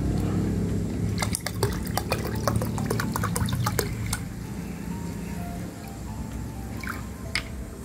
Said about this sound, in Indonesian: Namun sebelum kita tuang ke wadah, kita campurkan dulu dengan E4 sebanyak 500 ml.